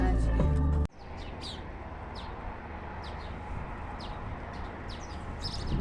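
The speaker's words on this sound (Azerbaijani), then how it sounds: "Quşların səsi, necə gözəl mənzərə." Small birds chirp in scattered short calls over a steady outdoor ambience, following a brief loud sound at the very start of a scenic day out in Azerbaijan.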